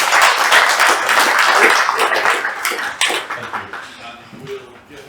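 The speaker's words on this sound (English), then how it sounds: "Let us have a further round of applause for Vincent." Sustained applause from a room of attendees at a business networking meeting, dense and loud at first, then thinning and fading toward the end.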